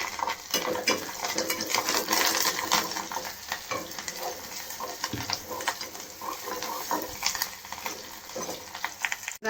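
Onion frying in oil with curry leaves in a pan for Maharashtrian patodi bhaji gives a steady close sizzle with spoon scrapes and clinks against the pan throughout, and no talk.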